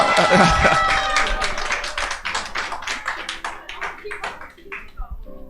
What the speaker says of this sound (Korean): 자, 박수를 더 크게 한번 하겠습니다.